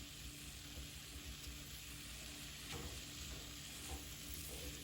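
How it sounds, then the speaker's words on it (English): Pancake batter with a butter and brown sugar mixture sizzling in a pan, a steady, close, even crackle with faint stirring and no voices. "You can hear that nice and sizzly in there."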